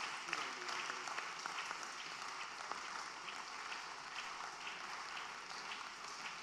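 Soft, thin applause from an audience at an inaugural lecture and leadership excellence award event, a scattered patter of claps heard at a distance throughout, fairly quiet and even.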